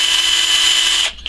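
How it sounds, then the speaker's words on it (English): A cordless drill spins a metal pipe against 1000 grit sandpaper, giving a loud, steady high-pitched whine that cuts off abruptly near the end, followed by a brief restart. "I've chucked the whole pipe into my cordless drill. And I'm just going to spin it and use this 1000 grit sandpaper"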